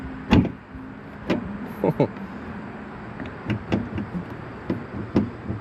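A Mustang GT power window regulator gives several short mechanical clunks and knocks spread over a few seconds, with a faint motor hum between them and car-interior background.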